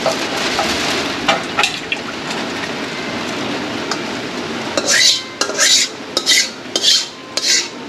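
Thin fish curry is poured into a dish, a steady close liquid splash with a rain-like patter, followed by a run of bright metal clinks against the pot.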